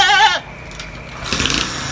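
A goat for sale at a livestock market gives one loud, close bleat at the very start, followed by quieter background noise.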